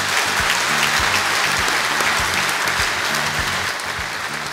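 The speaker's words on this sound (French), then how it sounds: "Applaudissez-la fort." Loud, sustained applause from an audience at a university award ceremony in Béjaïa honoring the best doctoral thesis, a dense steady clapping that holds throughout and eases slightly near the end.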